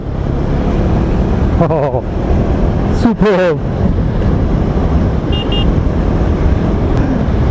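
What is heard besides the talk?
KTM Duke 390 motorcycle riding at speed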